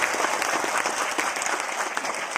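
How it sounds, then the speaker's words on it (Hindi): An audience at a speech claps in a dense burst of applause that holds steady and loud for the whole stretch, many hands sounding at once. "तो मैं एक बार चाहता हूं अब तक की सबसे जोरदार तालियां ऊपर वाले के लिए एक बार हो जाए।"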